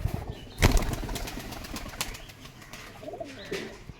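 A pigeon claps its wings in a short display, one sharp burst of flapping early on, then softer rustling and faint cooing nearby.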